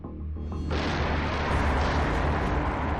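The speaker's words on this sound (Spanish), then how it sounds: "Motor para un cohete V2." A German V2 rocket engine from the Second World War firing in a sustained, loud broadband roar that builds abruptly after a brief rumbling start and then holds steady and close.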